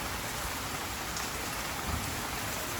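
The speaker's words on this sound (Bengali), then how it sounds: "দেখো কি সুন্দর বৃষ্টি হচ্ছে" Steady, dense rain pours down continuously, a broad hiss of drops hitting surfaces with no voices, close and fairly loud throughout.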